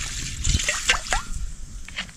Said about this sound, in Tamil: கொஞ்சமாக தண்ணி ஊற்றிக்கிறேன்.